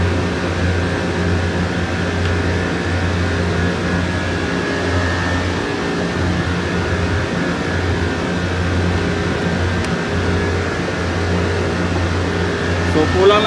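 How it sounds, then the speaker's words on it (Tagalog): A steady mechanical drone with a low hum and constant whir from the blower of a 15-ton Zamil package air conditioning unit running close by without letup. "Yan po yung ating blower."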